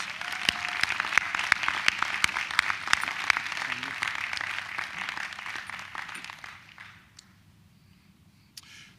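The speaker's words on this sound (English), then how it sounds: "Let's give all of our honorees another round of applause." An audience at a Founder's Day program claps for its honorees in a dense, lively round of applause that runs for several seconds, then thins out and fades to a few scattered claps.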